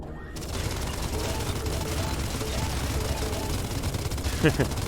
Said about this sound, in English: Mining with machine guns.